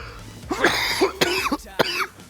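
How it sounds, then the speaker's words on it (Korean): A few short, harsh coughs mixed with throat clearing, close and fairly loud, in quick succession. "기침 소리 때문에 한 번만 다시 가요."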